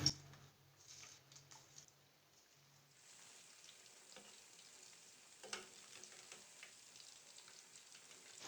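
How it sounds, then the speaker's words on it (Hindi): Chicken pieces deep frying in hot oil, a steady crackling sizzle that runs the whole time with scattered sharper pops, fairly quiet and close, with a faint low hum near the start. "अब इसी तरह से मैं बाकी भी फ्राई करूंगी"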